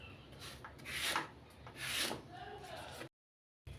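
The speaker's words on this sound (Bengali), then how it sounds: "আমি জিরেটা এখন বেটে নেব, জিরে আর আদা" Cumin and ginger are ground into a spice paste by hand, heard as close, rhythmic scraping and rubbing strokes that swell twice and then break off into a short silence.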